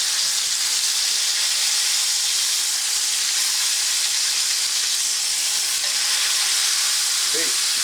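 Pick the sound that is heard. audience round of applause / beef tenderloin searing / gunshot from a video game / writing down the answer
beef tenderloin searing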